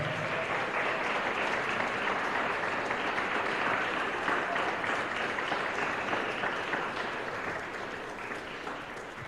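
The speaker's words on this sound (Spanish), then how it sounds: "¿Cuánto le dan un aplauso al Señor?" Sustained applause from a large church congregation fills the room, steady and loud throughout, easing slightly toward the end.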